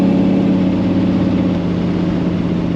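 A 1932 Ford 3-window coupe resto-mod drones steadily while driving, its engine a constant low, mid-pitched rumble with road noise and no talking.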